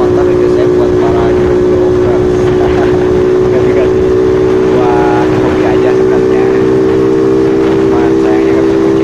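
A steady Honda Monkey motorcycle engine drone hums loud and constant throughout, mixed with road rumble, heard while riding.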